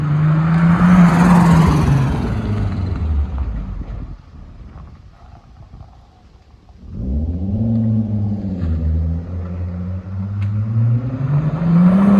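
A turbocharged VR6 engine swapped into an MR2 Roadster revs and burbles loudly, rising and falling in pitch, dips quieter midway, then roars back with a low, throaty rumble.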